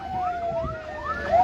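An ambulance siren wails in repeated rising and falling sweeps, loud and fairly close, over a low rumble of traffic at a fatal road accident scene in Morocco.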